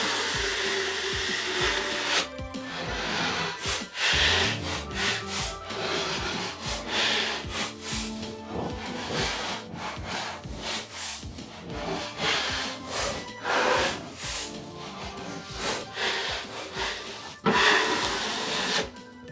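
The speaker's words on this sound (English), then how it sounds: "Looks like we're putting on a lot of plaster." Trowel spreading a thick layer of plaster across a wall, with steady repeated scraping strokes close by, rhythmic and continuous throughout, without talk.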